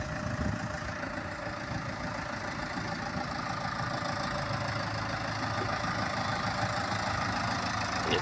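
A boat engine idles steadily with a low, even rumble that holds constant throughout, no voices over it.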